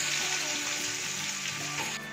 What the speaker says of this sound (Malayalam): അതിലേക്ക് നമ്മുടെ ഈ എണ്ണ ഒഴിച്ചു കൊടുക്കും. നമുക്കിതിലേക്ക് കുറച്ച് സവാള ചേർക്കാം.